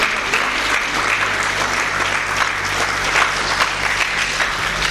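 A crowd at an Italian talk gives steady, dense applause: continuous clapping from many hands, fairly loud and close, with no voices over it.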